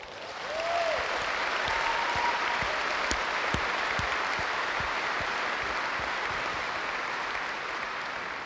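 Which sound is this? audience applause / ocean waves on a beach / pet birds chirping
audience applause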